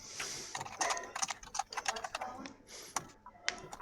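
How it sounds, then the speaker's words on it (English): Rapid, irregular clicking of keys on a computer keyboard, close and crisp, with bursts of fast strokes and short pauses between them. "my typing is Loud."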